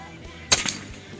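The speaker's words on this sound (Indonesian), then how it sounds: "tembakan yang pertama kena" A single sharp, close crack from a SATSUS P1000 air rifle, fired once outdoors during a hunting test, with a short echoing tail that quickly dies away.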